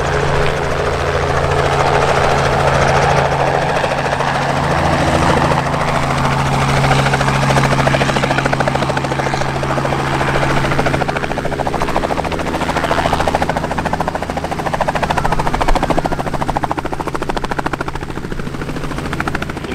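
A helicopter flies continuously nearby at a balloon festival, its loud rotor chop and engine drone holding steady throughout without any talking.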